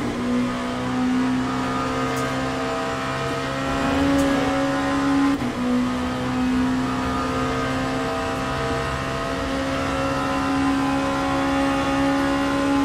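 The engine of a prototype race car in Le Mans Ultimate drones in a steady, sustained tone, its pitch rising and dipping slightly as it revs, loud and continuous with no talking.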